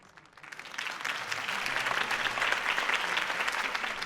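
Crowd applause after a campaign speech in the Batman Telltale video game, building quickly from a faint start into a steady, sustained clapping that stays moderately distant and fairly quiet.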